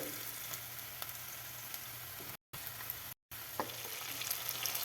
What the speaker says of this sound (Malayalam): എന്നിട്ട് നന്നായിട്ട് ഇളക്കി മിക്സ് ചെയ്യണേ സവാള ഇപ്പം അത്യാവശ്യം നന്നായിട്ട് വഴങ്ങി വന്നിട്ടുണ്ട്